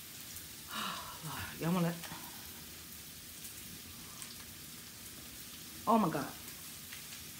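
Shrimp sizzling in a hot pan in a home kitchen, a soft steady frying hiss running under excited spoken exclamations, fairly quiet overall.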